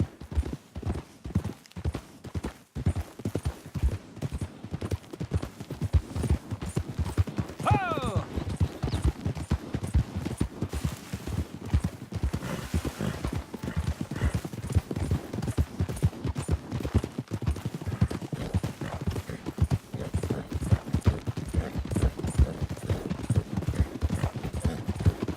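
Horse hooves clip-clopping in a quick, continuous rhythm in Red Dead Redemption 2, with a brief whinny partway through and voices talking over it.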